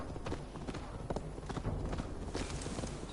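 Horse hooves clip-clop in a steady, quick rhythm in the video game Assassin's Creed Valhalla, close and continuous for the whole stretch with no talk over them.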